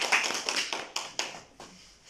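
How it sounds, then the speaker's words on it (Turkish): Short burst of applause at a Turkish wedding ceremony, a handful of sharp hand claps in quick succession, thinning out and fading within about two seconds. "Bence bir alkışlamanız lazım"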